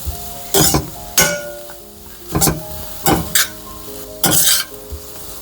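Shredded coconut cooking in a pan is stirred in five or six quick, scraping bursts with brief pauses between, close and fairly loud over a faint steady sizzle, with no talking.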